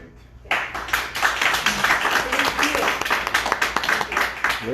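An audience at a county executive committee meeting claps loudly and steadily after a brief silent start, dense continuous applause from many hands filling the room.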